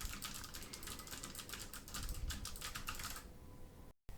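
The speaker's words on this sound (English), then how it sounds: "here's my typing test with it up off of my desk and a little bit further away from my keyboard" Rapid clattering keystrokes on a computer keyboard, picked up by a Nasum USB condenser microphone set on a boom arm slightly away from the desk; quiet but steady typing for about three seconds, alone, ending abruptly.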